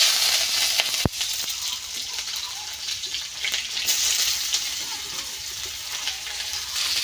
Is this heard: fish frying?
yes